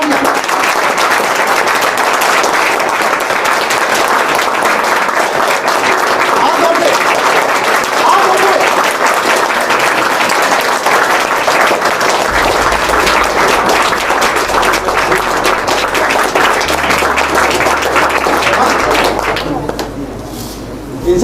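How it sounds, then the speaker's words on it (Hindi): Loud, dense applause from a large crowd at a police recruitment guidance and motivation session, sustained for about twenty seconds before tapering off at the end. "एक बार जोरदार ताली"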